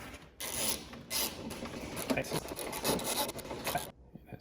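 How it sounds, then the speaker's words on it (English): Bolt on a BMW E46 convertible front window regulator being turned by hand, with rasping, scraping ratchet-like clicks and rubbing in irregular bursts, close and fairly loud with short pauses. "Now I am going to be turning this counterclockwise to tighten it."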